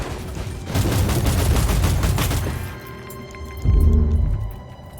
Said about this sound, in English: Let's throw a grenade right there.